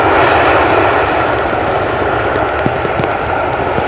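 An airliner lands on runway 18R at Amsterdam Schiphol in rainy, windy weather, its engines a loud, continuous, close roar with no voices.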